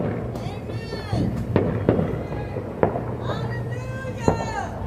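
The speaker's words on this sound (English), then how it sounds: "Y'all see the fireworks going on." Fireworks at a New Year's celebration crack and pop at a distance in scattered sharp bursts with whistling streaks, under a steady noisy background and a voice talking.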